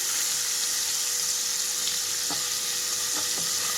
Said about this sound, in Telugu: ఇప్పుడు పన్నీర్ ముక్కలన్నీ ఇందులోకి వేస్తున్నాను. ఎక్కువసేపు అవసరం లేదండి, 1 నుంచి 2 నిమిషాల పాటు ఇలా వేయించుకుంటే చాలు.